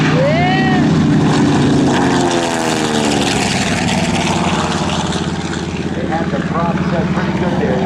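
A TBM Avenger with a 1,700 hp Wright Cyclone radial engine growls loudly past, propeller and engine roar sweeping in pitch as it passes, with an announcer speaking over it.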